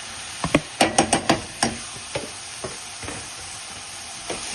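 Chicken mince dropped into a hot pan and frying, a cluster of sharp clattering scrapes and sputters early on, then sparser stirring knocks over a faint steady sizzle, close by with no talk.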